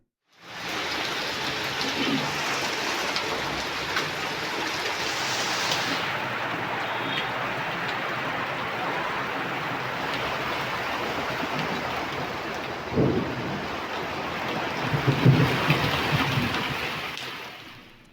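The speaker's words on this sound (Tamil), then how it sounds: "இடி மின்னலுடன் கூடிய பலத்த மழை பெய்தது" Heavy rain falls in Kadayanallur, Tenkasi district, Tamil Nadu, as a dense, constant downpour hiss, broken by a few low thunder rumbles near the middle and toward the end.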